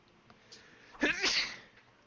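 A single close, sharp human sneeze with a short in-breath, then a brief nasal burst that fades quickly.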